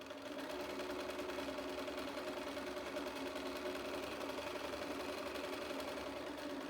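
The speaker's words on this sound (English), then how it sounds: "start sewing along the other 9-inch edge, keeping my two pieces together nicely" A sewing machine stitches steadily along a 9-inch fabric edge, holding two pieces together, with a continuous close-up whir and needle chatter that never pauses.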